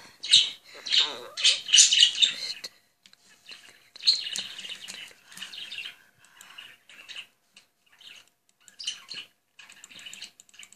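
Birds in a video game squawk and chirp in shrill bursts, loud at first and then in scattered, thinner calls with gaps of quiet.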